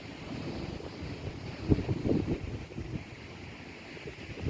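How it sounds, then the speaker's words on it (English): Strong wind on Chesil Beach buffets the microphone with low, uneven rumbling gusts, faint surf and shingle sounds mixed beneath, at a fairly low overall level with no speech. "I suppose the wind's up to about 20 miles an hour now"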